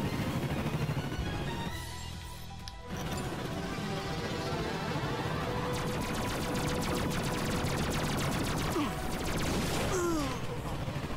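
Gunfire in the PS4 game Ratchet and Clank: dense, loud bursts of rapid shots and mechanical clatter that run almost unbroken for about eleven seconds, with a short dip near the two-second mark.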